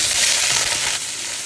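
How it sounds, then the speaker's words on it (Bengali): Eggs fry in a hot pan, giving a loud, dense, continuous sizzle with faint scraping stir sounds underneath and no talking. "এখন আমি ডিমগুলো ভেজে নেব।"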